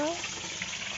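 Kancha fish frying in a pan gives a soft, steady sizzle, faint and brief, with a quiet stir at the start.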